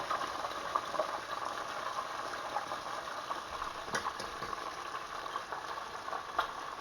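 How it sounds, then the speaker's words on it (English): Crappie fish fillets frying in a pan, a steady soft crackle and bubbling sizzle that holds close and even throughout, with a few brief louder pops and no talking. "Fry for 5 minutes on both sides."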